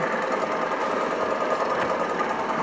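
A lathe set up for threading runs with a steady, dense mechanical hum and a faint rattle throughout, close and continuous with no talk.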